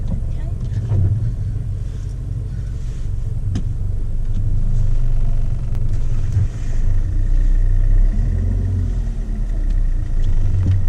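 A car engine rumbles low and steady throughout while the vehicle moves slowly, with faint voices and small creaks in the cabin.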